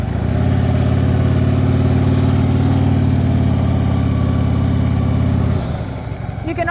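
A motorcycle engine idles loudly and steadily, close by, while the heavy bike is turned around during U-turn practice, then the engine note drops away near the end.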